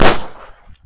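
A firecracker bomb bursts during Diwali celebrations, a single loud, close blast that decays quickly into a short rumbling tail.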